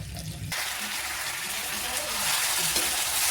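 Chicken liver cooking in a pan with a splash of water, a sudden loud sizzle and bubbling hiss that stays steady and close.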